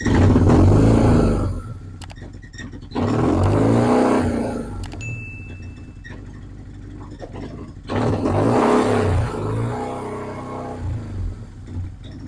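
A BMW R1100R motorcycle engine runs after starting, fresh from a Hall effect sensor repair, with three strong revving surges rising and falling over a steady idle, loud and close.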